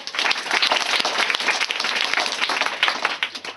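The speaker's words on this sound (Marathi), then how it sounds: "जोरात टाळ्या" Loud, steady applause from an audience at an award ceremony honouring meritorious students, dense continuous clapping filling the space without pause for several seconds.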